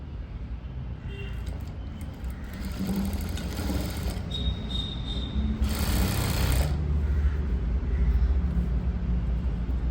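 A sewing machine stitching a blouse runs with a continuous whirring drone close by, its pitch and loudness rising slightly partway through, with faint background sounds.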